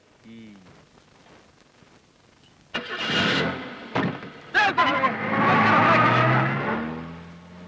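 A vehicle engine cranks and catches after quiet speech, then settles into a loud, steady idle with a few sharp knocks along the way.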